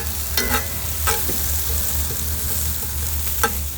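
Aromatics sauté in a pan over a wood fire, giving a steady, dense sizzle with a few sharper crackling bursts and spatters rising above it, close and continuous throughout.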